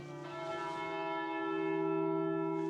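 Church bells rung by hand in Scotland, a sustained bell tone with steady ringing overtones that swells and holds, loud and continuous with no talk over it.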